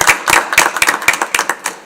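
A small group clapping in applause at a city council meeting after a televised interview, a brisk run of close, bright hand claps lasting a couple of seconds with no speech.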